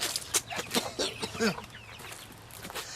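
A chicken clucks in a quick series of short, choppy calls, fairly close, fading into quieter clucks toward the end.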